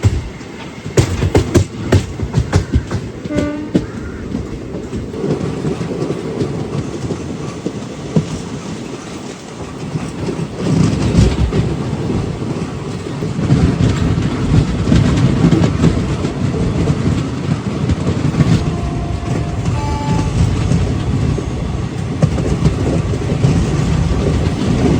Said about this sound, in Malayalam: ഇവിടെ കൊല്ലം ജംഗ്ഷനിലേക്ക് എത്തിക്കൊണ്ടിരിക്കുകയാണ് നമ്മുടെ സൂപ്പർ ഫാസ്റ്റ്